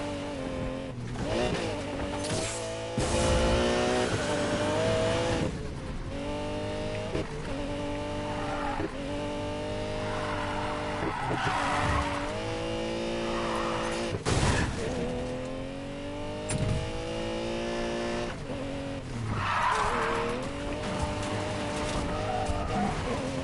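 A Lamborghini Murcielago race car in Need for Speed Payback drives over hilly terrain, its engine droning loud and steady throughout with shifting revs and bursts of tire skid and squeal, no talk over it.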